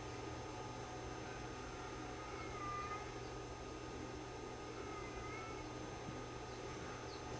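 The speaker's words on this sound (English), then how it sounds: "Cat wants out." A house cat meows to be let out, faint tonal calls against a steady hiss of background noise.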